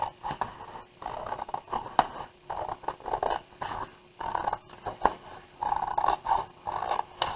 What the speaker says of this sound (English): And you'll have to excuse my not perfect cutting.